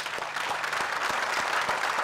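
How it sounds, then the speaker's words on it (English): Crowd applause for graduates at a commencement ceremony, a continuous wash of clapping with a few sharper claps standing out, heard at moderate loudness without talk over it. "let's clap for them."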